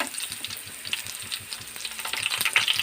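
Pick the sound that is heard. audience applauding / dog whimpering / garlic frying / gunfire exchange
garlic frying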